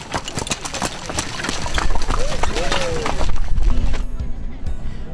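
A horse pulling a carriage for children at a St. Martin's Day ride, hooves clip-clopping in a steady rhythm amid outdoor crowd noise, with people talking over it.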